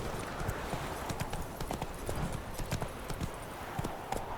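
Horse hooves galloping in The Witcher 3, a fast continuous clip-clop rhythm that stays close and moderately loud over a soft background wash.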